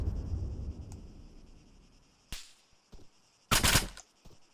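Gunfire in the military shooter game ArmA 3 during a house-to-house firefight near a football pitch: a low rumbling stretch, then two sharp loud shots spaced apart with a few fainter cracks and echoes between.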